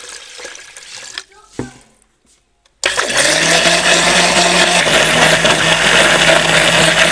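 Soft sounds and a brief silence are followed by a loud electric blender kicking on and grinding lemons with sugar and water, running steadily at close range.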